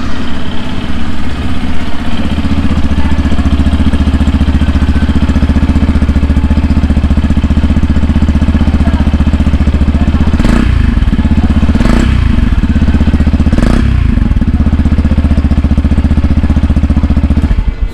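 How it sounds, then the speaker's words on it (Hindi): A 2023 Yamaha FZ-S V4 150 cc motorcycle idling steadily up close, its exhaust note loud and even, broken by three quick throttle blips near the end; no voices. "सो अभी सुनेंगे इसका एग्जॉस्ट नोट, देखेंगे कैसा एग्जॉस्ट नोट इस बाइक में अभी हमें सुनने को मिलता है।"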